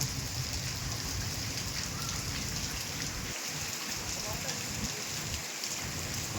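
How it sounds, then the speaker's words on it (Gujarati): Steady monsoon downpour hisses throughout while low thunder rumbles roll underneath at intervals, with lightning cracks. "વીજળીના કડાકા ને ભડાકા"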